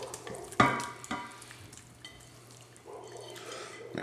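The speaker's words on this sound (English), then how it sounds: "Going to give this a good stir." Shredded Italian beef and peppers are stirred in broth, giving soft wet sloshing and scraping with one sharper clatter near the start, then a low steady simmer beneath.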